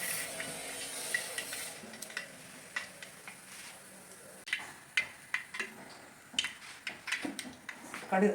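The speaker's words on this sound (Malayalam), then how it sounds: "കടുക് പൊട്ടി കഴിഞ്ഞു." Mustard seeds pop and crackle in hot coconut oil, sharp irregular snaps growing more frequent over a steady sizzle.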